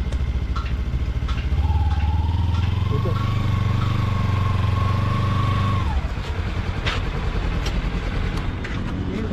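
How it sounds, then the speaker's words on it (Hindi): A Kawasaki ZX-6R sport motorcycle runs with a throaty engine and exhaust rumble nearby. The revs rise and hold for several seconds, then drop back to a steady idle. "उसका एग्जॉस्ट ज़्यादा अच्छा है यार बुर्र बुर्र करती है"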